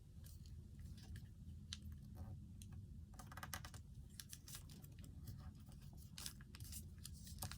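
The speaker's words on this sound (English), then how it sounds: "you're going to fold this little piece up right here along that crease" Paper being creased and folded into an origami fighter jet with ventral fins, a steady close crinkling and rustling with sharper crackles and snaps scattered throughout, no talking.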